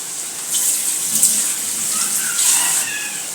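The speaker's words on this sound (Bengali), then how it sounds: "বড়টা দিয়ে পানিটা দিয়ে দেব।" Water poured from a large vessel into a pan while cooking pumpkin fried with egg; a steady, close splashing stream runs through the whole moment with no talk.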